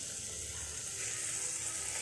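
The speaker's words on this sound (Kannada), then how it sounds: "ಒಂದು 2 ನಿಮಿಷ ಇದನ್ನು ಚೆನ್ನಾಗಿ ಎಣ್ಣೆಯಲ್ಲಿ ಬಾಡಿಸ್ಕೊಳ್ಬೇಕಾಗತ್ತೆ" Washed rice fries in oil in a pot while a vegan coconut milk pulao is being prepared, giving a quiet, steady sizzle with faint crackling and light stirring, with no talking.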